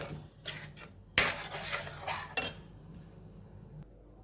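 Bhagar-sabudana fasting khichdi is plated, with utensils clinking and scraping against dishes in a few quick, close knocks and scrapes, then quieter handling.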